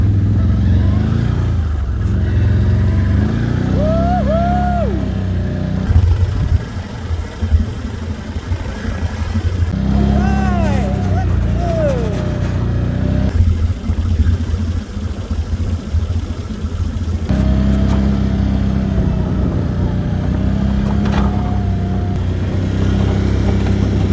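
A vehicle engine drones steadily while plowing deep snow in a blizzard at night, a loud low rumble with rising and falling revs throughout.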